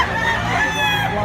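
A big Talisayon gamecock crows loudly and close by, one brief drawn-out call with nothing else around it.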